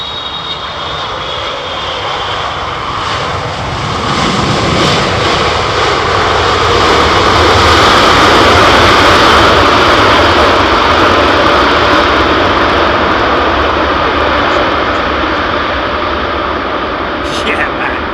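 A jet airplane taking off at London Heathrow Airport: a loud, sustained engine roar that swells and holds for many seconds, with voices faintly underneath.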